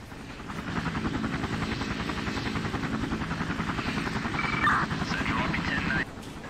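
A police helicopter in the Emergency 4 game with an LA mod gives a steady, close rotor thump and engine drone throughout, with voices talking over it.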